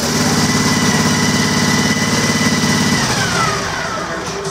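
A small gasoline engine driving a pump unit for prairie burn training, pulled to life with the throttle set halfway and choke on, then running with a loud steady chugging idle that eases slightly near the end.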